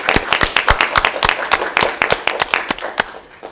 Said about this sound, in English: let's give our president a warm applause for his wonderful speech